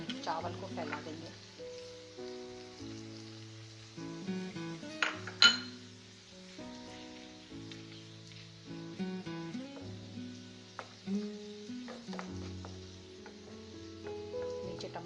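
Tomato fried rice cooking in a pan as rice is spread over frying tomatoes, with a soft sizzle beneath repeated metallic clinks and scrapes of a utensil against the pan, plus tonal background music throughout.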